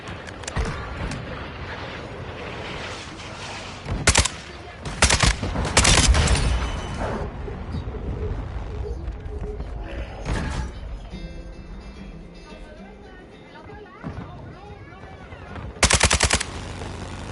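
Heavy online firefight in Call of Duty Modern Warfare 2, with loud sustained automatic gunfire and sharp single shots in repeated bursts, separated by quieter stretches of distant battle noise and faint in-game voice callouts.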